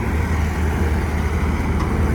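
A small tractor engine labours in a steady, continuous low drone while hauling a trolley stuck in the field, close and loud throughout with no speech.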